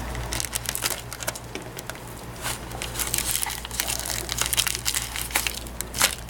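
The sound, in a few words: tape being applied over foam padding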